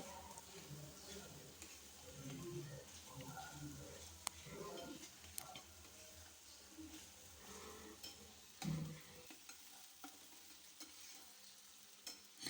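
Masala with a little chili powder being fried and stirred in a kadai, a low sizzle under scraping stirs with occasional clicks, fairly quiet throughout.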